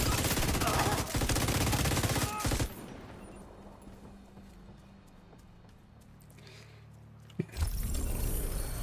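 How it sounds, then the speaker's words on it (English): Dense automatic gunfire in the video game The Division, a loud continuous fusillade for nearly three seconds, followed by a quieter stretch and one sharp shot near the end. "Firing on targets."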